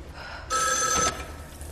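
A telephone bell rings in the horror film As Above So Below, one short, fairly loud burst of ringing against a quiet background.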